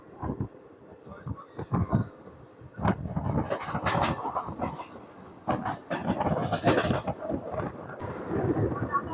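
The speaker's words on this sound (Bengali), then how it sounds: "আমাদের ট্রেন ছেড়ে দিল বহরমপুর কোর্ট স্টেশন" The Bhagirathi Express passenger train rolls out of Berhampore Court station with a continuous rumbling ride on the rails, steady clicking wheel beats, and wind buffeting the microphone.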